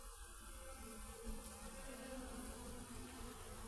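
A mass of honeybees buzzing around a hive with honeycomb, a dense, continuous drone filling the space, steady and enveloping without any voices.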